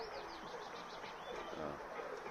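Young pigeons in an old loft, repeated soft cooing and faint chirps under a quiet, hissy background.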